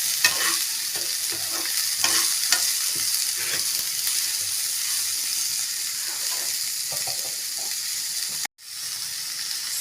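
Beans frying in a pan for beans poriyal, stirred steadily with a spoon, giving a continuous close sizzle broken by irregular scraping and clinking, with a brief drop-out near the end.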